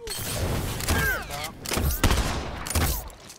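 Gunfire in The Last of Us Factions online multiplayer match, a few sharp shot bursts and thuds spaced across the moment, mixed with whooshing game effects and a faint voice.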